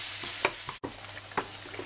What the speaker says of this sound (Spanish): La vamos a pochar también a fuego lento para que se quede bien tierna y melosita